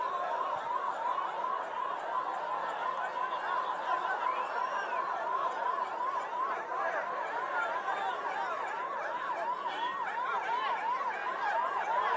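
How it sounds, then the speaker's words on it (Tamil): An ambulance siren wails in a steady repeating pattern as it moves through a dense crowd at a political campaign rally in Perambalur, heard at moderate distance under crowd chatter and shouting. "ஐயா ஆம்புலன்ஸ் வருது வழி விடுங்க"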